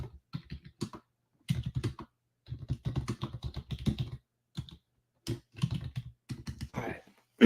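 Clicky keystrokes on a computer keyboard come in quick bursts separated by short pauses, close and crisp, with no talking.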